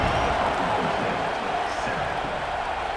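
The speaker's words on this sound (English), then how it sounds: "this crowd is buzzing after that last score" A crowd buzzes in a stadium in the College Football 26 video game, during a West Virginia versus Oklahoma State matchup after a score, a dense, loud, steady roar of cheering.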